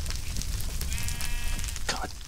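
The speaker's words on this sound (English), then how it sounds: "Sheep. Sheep." Sheep bleat in the Minecraft video game, a short bleat sitting under steady background noise from the game.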